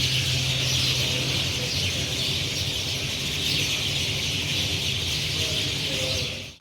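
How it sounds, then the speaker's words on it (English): Dense twilight chorus of many birds congregating at dusk on a holiday in Tunisia, a loud, continuous racket of overlapping chirps and calls filling the air without pause. "as all the birds congregated and made an absolute racket"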